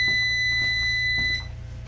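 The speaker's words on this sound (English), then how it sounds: "you hear all the beeping" A steady electronic oven alarm beeping tone, sustained and fairly loud, with a low hum underneath; it drops in level near the end.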